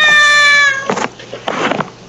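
A cat gives a drawn-out meow that fades into two rough, breathy yowling bursts, close and fairly loud, alone without speech.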